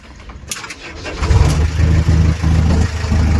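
A JCB backhoe loader's engine cranks briefly, then catches and settles into a loud, low, throbbing diesel idle close by. No speech.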